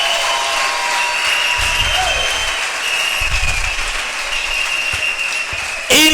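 An audience applauds throughout, a steady wash of clapping from a crowd, while a voice speaks over it and the applause briefly swells louder at the end.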